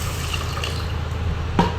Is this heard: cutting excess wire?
no